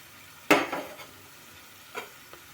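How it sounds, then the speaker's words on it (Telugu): Sliced onions frying in a pan with cumin and coriander seeds for a village-style masala tindora dish, a sharp spoon scrape and stir sets off a brief sizzle, then two fainter stirs, close with no talking. "మొత్తం కలుపుకొని ఫ్రై అయ్యేదాకా వేపుకుందామండి."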